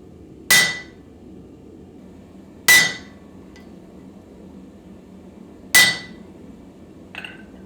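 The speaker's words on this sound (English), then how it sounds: "I finish the eye and the pole section off by using my flatter to smooth everything out." Three sharp, ringing hammer blows strike a flatter on a hot forged axe eye and pole, spaced about two to three seconds apart in a quiet forge, followed by a lighter metallic tap.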